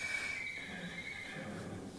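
A horse whinnies during groundwork with its rider, a faint, fairly distant neigh at the start that tails off over soft background noise.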